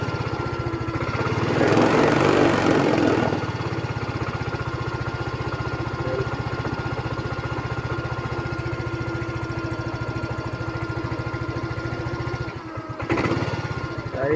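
A Yamaha Mio i 125 scooter, checked for a low-battery fault, starts with a short cranking burst and settles into a steady, close, even idle that runs on without interruption.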